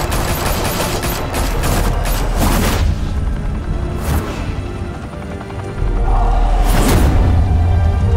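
Heavy gunfire in the Batman Telltale video game, with dense rapid volleys, sharp cracks and booming impacts at close range that surge and swell loudly across eight seconds.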